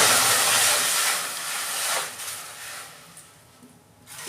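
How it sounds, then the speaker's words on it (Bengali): Water poured into a hot wok while cooking dal, a loud steaming hiss that surges at first, eases, swells again briefly and then fades down. "এই যে আমি জল দিচ্ছি কড়া।"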